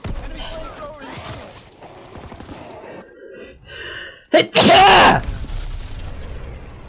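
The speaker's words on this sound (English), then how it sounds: "That was a little excessive sneeze." One forceful sneeze bursts out loudly and sharply near the end, after stretches of someone talking over game sounds in a Call of Duty Black Ops 4 match.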